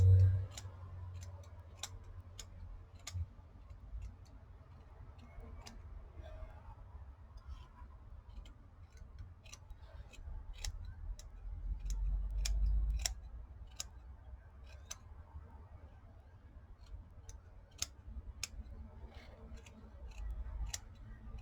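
Scissors snipping through handmade paper and burlap fibre for paper bead earrings, with sharp, close, steady cuts repeating across a quiet low background hum.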